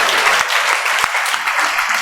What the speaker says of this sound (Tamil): நல்லா ஒரு கைத்தட்டி தான் ஆண்டவரை மகிமைப்படுத்துங்களேன்.